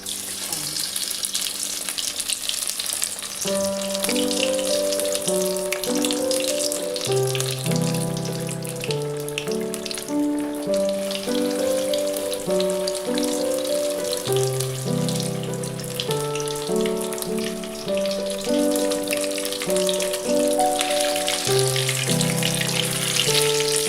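Batter-coated fish, Kolkata style, frying in hot oil, giving a steady bright crackling sizzle that runs without a break beneath continuous background music.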